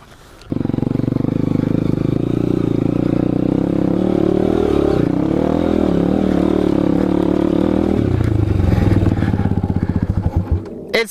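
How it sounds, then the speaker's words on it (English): Dirt motorcycle grinding up a muddy hill in first gear, a loud, close, sustained engine drone that holds steady and then drops in pitch and clatters as it eases off near the end. "Literally, just put your bike in first and just go up it."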